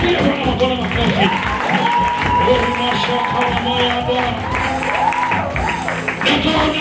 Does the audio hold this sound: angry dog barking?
no